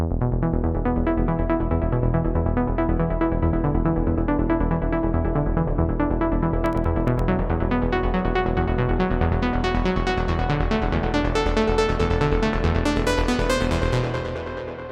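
Layered synth music with bright plucked harp-like notes over a deep bass line, steady and rhythmic, ending with a short fade.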